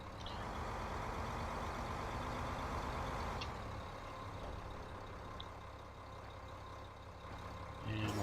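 Tractor engine idling in Farming Simulator 15, a steady low rumble that runs throughout at moderate level with a faint hiss on top.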